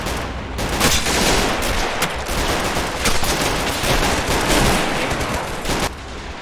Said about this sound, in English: this artillery piece can shoot all the way across this map